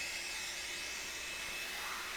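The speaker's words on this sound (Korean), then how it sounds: "이런 송풍기 가지고 계시는 분들은 가루 같은 거 날려버리시면 됩니다" A handheld air blower blows polishing dust off a car during paintwork polishing. It makes a loud, steady, close rushing whoosh that holds without a break, with no other sound over it.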